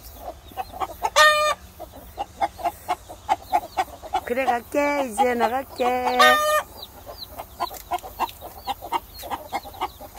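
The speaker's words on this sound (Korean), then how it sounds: "알 품어서 병아리가 태어났어요" Hen clucking close by among newly hatched chicks, with repeated short clucks and a few louder drawn-out calls, some overlapping, while a person speaks briefly over them.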